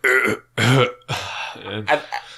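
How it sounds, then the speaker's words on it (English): Several loud, close burps come in quick succession after drinking Dublin soda, each a throaty belch separated by short pauses. "if you heard us burping like Rick over here in Rick and Morty"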